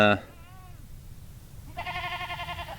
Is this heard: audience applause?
no